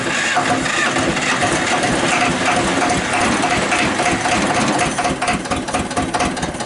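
A cold diesel engine, fitted with repaired glow plugs, cranks and fires on a freezing morning, then settles into a loud, rough, clattering idle that carries on steadily at close range.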